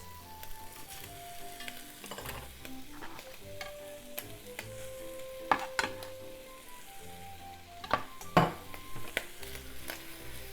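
Vegetables stir-fried with squid in a buttery soy sauce, a steady sizzle in the pan with irregular spatula stirs and scrapes, two louder clatters near the end, over soft background music.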